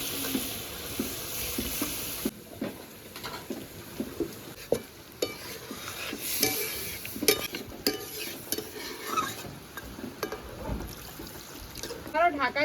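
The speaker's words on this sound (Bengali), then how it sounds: "এখন পরিমাণ মতো জল দিয়ে দেবো।" Water poured into a simmering mutton and potato curry in a pan hisses and splashes in bursts, mixed with sizzling and the clatter of stirring close by.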